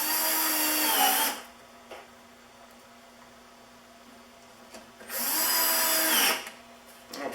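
A power drill drives screws into an I-beam work support in two loud bursts of about a second each, separated by a quiet pause with a low hum.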